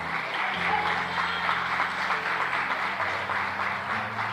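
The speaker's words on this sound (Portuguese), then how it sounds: "Pode aplaudir Jesus, que ele merece." Steady applause from a church congregation during a sermon fills the space, a dense continuous wash of clapping at moderate volume with no clear voices on top.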